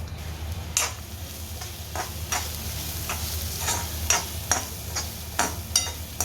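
Peanuts frying in a little oil in a home kitchen, a soft sizzle under a low hum, broken by a series of small sharp ticks and pops spaced unevenly throughout.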